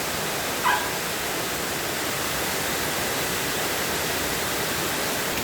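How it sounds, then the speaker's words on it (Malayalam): Heavy rain pouring down from above onto an outdoor toilet during flooding, a dense, constant roar of falling water filling the whole stretch, close and loud, with one brief faint squeak near the start. "അതും ഇതുപോലെ മുകളിൽ നിന്നാണ് അതിൻ്റെ അവിടെ നിന്നാണ് വെള്ളം വന്ന് വീഴുന്നത്"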